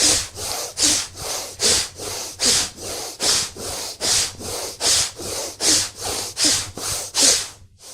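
Forceful breathing out through the nose during a yoga exercise, heard up close as about sixteen sharp, even puffs in a steady rhythm with no talk.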